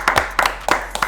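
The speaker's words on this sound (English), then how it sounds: "A round of applause for Nigel." Scattered hand clapping from a small group for a contest winner, a few sharp irregular claps, moderately close.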